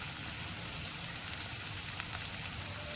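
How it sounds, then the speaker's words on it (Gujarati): Green and dry onions with asafoetida and turmeric fry in hot oil, giving a steady, even sizzle with a fine crackle that holds without a break. "સારી રીતે મિક્સ કરી અને થોડીવાર એને તેલમાં જ પકાવવા દઈશું"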